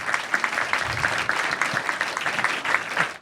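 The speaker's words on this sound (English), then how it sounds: "Let's give her a round of applause." An audience at a panel discussion on filmmaking applauds a producer on the panel. Dense, steady clapping with sharp individual claps fills the room throughout, with no talking.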